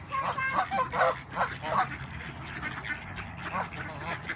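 Geese chasing people honk in a few loud bursts close by at the start, then fade to scattered calls over a background of outdoor murmur.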